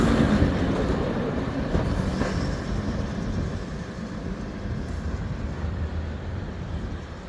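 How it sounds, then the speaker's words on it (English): A diesel multiple unit train on the Keighley and Worth Valley Railway rumbles steadily past close by, a loud continuous roar with faint rattling that eases slightly toward the end. "So that was the diesel, the DMU train"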